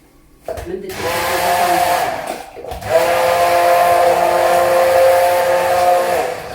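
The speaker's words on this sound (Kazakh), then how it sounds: "Балды салып болғаннан кейін тағы да блендермен езіп жатырмын." A hand blender whirs through a pumpkin drink sweetened with honey, a loud, steady motor drone that stops briefly and restarts, running close and continuously.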